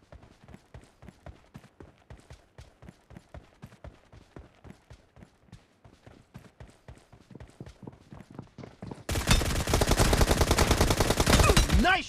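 M762 rifle gunfire in a PUBG Mobile team deathmatch, a long run of regular, evenly spaced shots followed by a loud, dense burst of rapid fire near the end.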